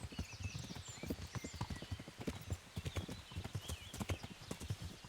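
Steady clip-clop of horse hooves trotting at a brisk, even rhythm in the video game Kingdom Come: Deliverance, fairly close, with a faint ambient background.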